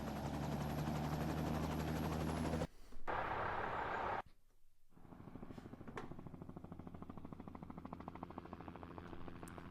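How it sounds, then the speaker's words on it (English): Helicopter sound effect flying overhead: a loud, steady rotor roar that drops out abruptly twice, leaving a quieter, fluttering rotor thump for the rest of the clip. "We've got a helicopter."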